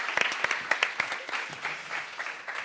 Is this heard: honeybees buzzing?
no